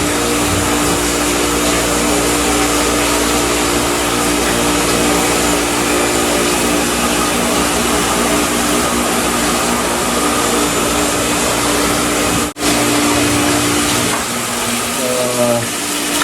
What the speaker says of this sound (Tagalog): gumagana ng mga high pressure motor pumps